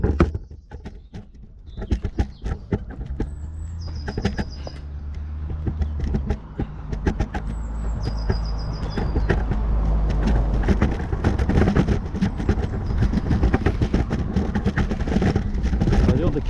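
Traffic on a narrow Cheshire country lane builds from quiet to a continuous rumble as cars pass close by, with tyre and engine noise swelling over the second half and a few high whistling tones.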